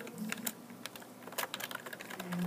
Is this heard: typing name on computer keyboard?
yes